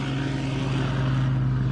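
A restored Spitfire's piston engine and propeller roar steadily overhead, a loud, close, continuous drone with a firm low hum and no voices.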